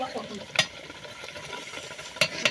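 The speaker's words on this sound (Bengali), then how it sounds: "এই যে মাংস কষানো হচ্ছে" Meat is stir-fried kosha-style in a pot, with a soft background sizzle broken by a few sharp scraping clatters of a utensil against the pot, under faint talk.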